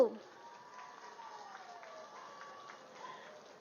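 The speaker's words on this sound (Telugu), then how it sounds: "spiritual tablets research foundation project కి ఒక్కసారి గట్టిగా చప్పట్లు" Audience applause at a meditation gathering for the Spiritual Tablets Research Foundation project, a steady, fairly distant patter of many hands clapping after an opening thump, continuing evenly throughout.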